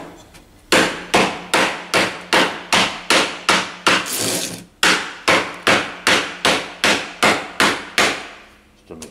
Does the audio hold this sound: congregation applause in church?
no